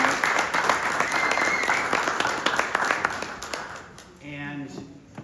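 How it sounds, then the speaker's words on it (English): Audience applause fills a hall at a leadership event, a dense, sustained wash of many hands clapping for about four seconds before it thins out and a voice starts speaking. "Can you join me in a round of applause?"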